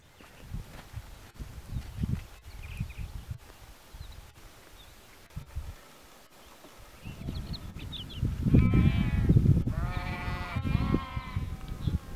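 Sheep bleating at a farm, several wavering, layered bleats rising loud and close in the second half, after quieter rustling and shuffling movement.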